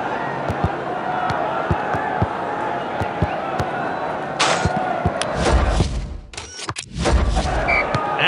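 Stadium crowd in the football game Dream League Soccer, a continuous roar of fans with scattered thuds of ball kicks, rising into louder cheering surges toward the end, with commentary-like speech mixed in.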